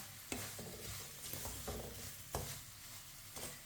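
Semolina halwa (suji ka halwa) with cardamom stirred in a pan, a low hissing sizzle with several distinct spatula knocks and scrapes at uneven intervals, faint and close, with no speech.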